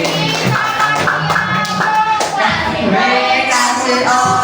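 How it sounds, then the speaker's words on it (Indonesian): Children in a grade 5 classroom clap together for a classmate, a dense close burst of applause running throughout, with some young voices mixed in. "kita langsung tepuk tangan untuk Radit pasti"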